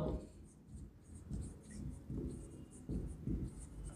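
Chalk or a pen scratches out a word on a board during an accounting lecture on cost sheets, giving quick irregular strokes at a moderate level with light room noise and no speech.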